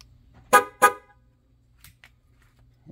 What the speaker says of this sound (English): I'm gonna do the honk standing right here with the hood open.